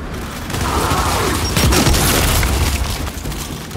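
A frag grenade detonates in the video game Gears 5 with a loud, close boom and a rumbling, debris-filled tail that swells and then slowly fades.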